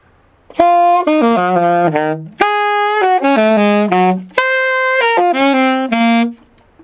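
A solo saxophone plays a short descending jazz phrase, a well-known lick, three times, bright and close, with brief pauses between repeats.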